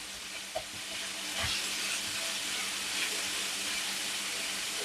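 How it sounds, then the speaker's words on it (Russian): Minced meat sizzling and frying in a pan while being mashed and broken up, a steady close hiss with a few soft scraping knocks and no talk. "Фарш, чтобы не было комков, хорошо растереть его в сковородке, пожалуйста."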